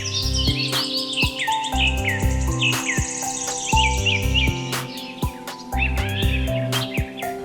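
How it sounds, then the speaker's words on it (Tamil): Flocks of birds chirp and call at a village bird sanctuary, with quick bursts of tweets layered over a steady, rhythmic low backdrop. "பறவைகள் கூட்டம் கூட்டமாக அப்படியே உணவுகளை தேடிட்டு அப்படியே இங்கே இறங்குறங்கிறது"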